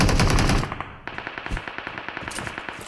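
Automatic gunfire in the mobile shooter BGMI (PUBG), a dense loud burst followed by a rapid rhythmic string of shots, heard alone without talk.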